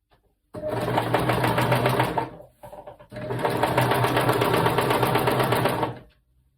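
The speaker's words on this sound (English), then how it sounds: "I don't normally sew over pins" Sewing machine stitching a quilt-as-you-go tote bag, running in two steady bursts of rapid, even motor hum and needle clatter with a brief pause between, close and loud with no talk.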